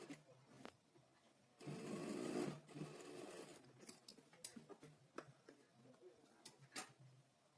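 Close sewing machine running a single top stitch along shirt piping, a fast whirring stitch burst in the middle, with quieter ticks and clicks of handling before and after.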